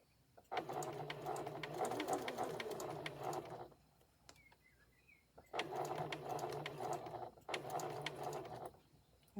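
A sewing machine back stitching fabric on a memory bear, running in three bursts of rapid whirring with short quiet pauses between them, near and fairly quiet.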